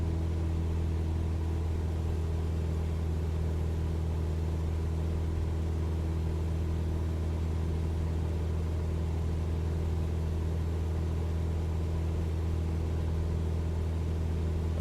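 A steady aircraft engine drone from a light plane in Microsoft Flight Simulator, cruising on a flight from Midland to El Paso, Texas, holds a constant low hum at unchanging RPM throughout, with no talk.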